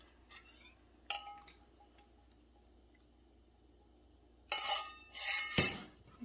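Eggs being mixed into macaroni and cheese, soft wet squishes and a few utensil clinks against a bowl, sparse at first, then a louder stretch of stirring near the end.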